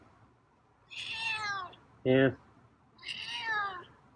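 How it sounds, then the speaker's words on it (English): A feral cat named Scruffy meows close by, two drawn-out, falling meows separated by a brief voiced interjection from a person. "Quiet meow, too."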